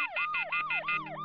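Unmanned police car siren wailing in rapid repeating rising sweeps, clear and close, about six cycles with no voices.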